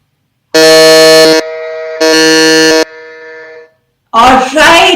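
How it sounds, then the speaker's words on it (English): Quiz buzzers pressed during a quiz-show quarter final: two loud, sustained electronic tones, each followed by a softer ringing tail, then a voice starts talking. "we have all the buzzers going on there"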